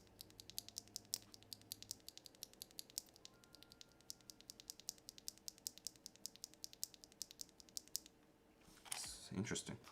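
Clacky mechanical keyboard switches with yellow and black keycaps typed in a fast, steady stream of sharp clicks, close and fairly quiet, ending in a brief louder rustle.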